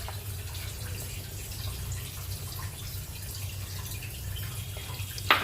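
Coconut milk pours into a pan of giant freshwater prawn malai curry, a steady soft liquid wash with faint dripping over a low hum, ending in a brief louder knock.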